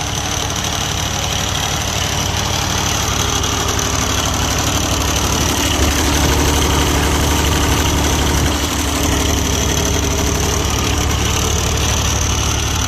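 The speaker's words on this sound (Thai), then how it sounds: "ตู้เชื่อมปั่นไฟนะครับ เครื่องยนต์ดีเซล3สูบนะ" A three-cylinder diesel engine on a welding generator idles steadily and loudly, a constant low rumble with a mechanical clatter running unchanged throughout, with no voices.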